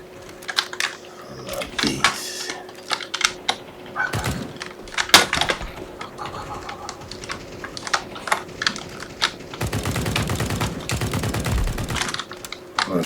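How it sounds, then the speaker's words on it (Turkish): Counter-Strike 2 gameplay brings rapid bursts of gunfire along with dense keyboard and mouse clatter, the shots crackling up close in clusters that include a sustained automatic burst near the end. "çok fazla mermi harcıyorum bir adam için"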